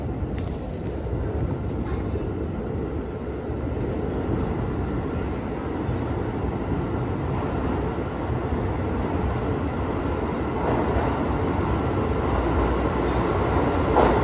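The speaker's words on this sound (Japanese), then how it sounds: "すぐに電車が入線してきました。" A Keisei 3100 series train rolls steadily into a station, a continuous low rumble of wheels and motors holding at an even, fairly loud level throughout.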